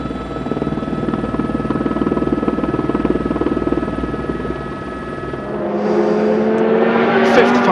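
A helicopter films a rally stage of the 2002 Monte Carlo WRC. Its rotor thrum beats steadily and loudly throughout, with a brighter engine whine rising near the end.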